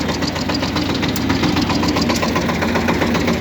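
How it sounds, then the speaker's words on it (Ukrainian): Shifeng tractor engine running with the hydraulic pump engaged to raise the ploughs: a steady, loud, knocking diesel chug with a rhythmic mechanical rattle throughout, no talk. "вмикаємо насос. вмикаємо щеплення і у нас плуги пішли уверх."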